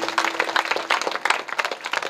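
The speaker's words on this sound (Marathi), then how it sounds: "एकदा या तिघांसाठी सर्वांनी जोरदार टाळ्या वाजवा." An audience at a comedy kirtan claps together in a dense, uneven burst of applause that stays lively and fairly close for a couple of seconds.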